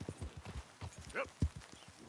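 Horse hooves clip-clop in a steady walking rhythm in the video game Red Dead Redemption II, close and fairly loud, with a brief whinny-like sound partway through.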